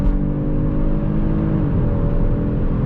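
A 2022 Kia Stinger GT pulls hard under full throttle, its engine a loud, smooth, rising drone with a low rumble, heard from inside the car for a few seconds with no talking.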